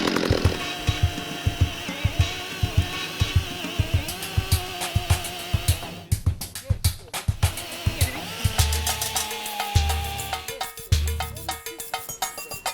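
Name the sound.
chainsaw cutting a fallen log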